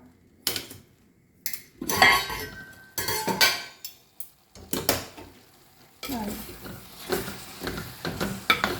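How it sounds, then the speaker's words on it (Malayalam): A spoon stirs a pot of avial, bringing repeated metallic clinks and scrapes against the pot in irregular bursts. Softer sizzling and rustling from the vegetables fills the gaps. "ഒന്ന് ഇളക്കി കൊടുക്കുക"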